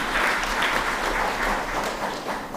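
Audience applause fills an opening ceremony for a university orientation week, a steady broadband wash of many hands clapping together at moderate loudness with no voices over it.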